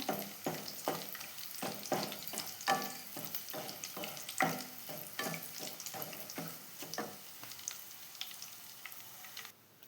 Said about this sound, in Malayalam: കറിവേപ്പിലെ വെളുത്തുള്ളി ചോന്നമുളക് അതും കൂടി വറുത്ത് എടുക്കട്ടെ